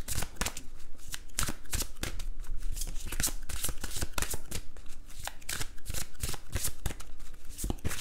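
Tarot cards are shuffled by hand at close range in a quick, steady run of crisp riffling flutters that repeat without pause, with no speech.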